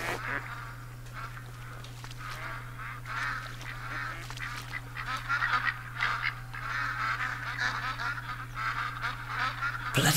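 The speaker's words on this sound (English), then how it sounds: "Bloody ducks, man, loads of them." Ducks honk and quack over and over in The Hunter: Call of the Wild on the Layton Lakes map, a busy overlapping flock calling at moderate distance above a steady low hum, growing slightly louder toward the end.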